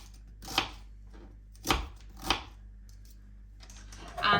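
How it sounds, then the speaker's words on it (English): A knife chops an onion into pieces on a board with a few sharp, separate strikes and quiet pauses between them. A faster flurry of cuts follows at the end, recorded close and fairly quiet. "get your onion sorted. You can do it in small pieces, or you can do it in bigger chunks depending on what you prefer."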